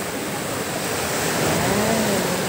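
Loud, rushing ocean surf at a beach in Real, Quezon Province roars steadily, a broad wash of crashing waves heard close with no voices.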